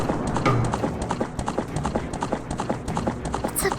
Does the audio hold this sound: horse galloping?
yes